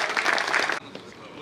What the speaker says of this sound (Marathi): साहेबांचं जोरदार टाळ्या वाजवून आपण स्वागत करा.